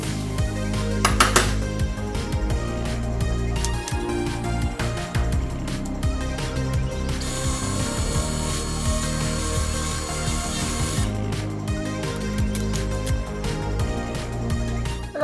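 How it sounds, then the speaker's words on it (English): Power drill boring a hole, a continuous rough grinding whine with a louder, brighter stretch in the middle and scraping, clattering contact noises throughout, close up. "I need to drill a hole in this"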